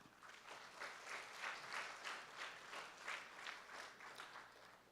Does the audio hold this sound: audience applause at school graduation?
yes